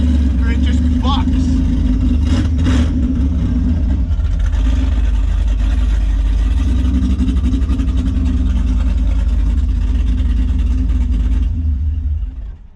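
An LS-swapped Jeep Cherokee engine running on open headers, a loud, steady, deep rumble that holds for about twelve seconds before fading at the end.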